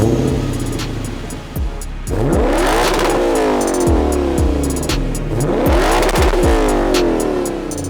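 A Lexus RC F Track Edition's engine fires up and revs hard, rising and falling in two strong sweeping pulls, loud and close throughout with no voices.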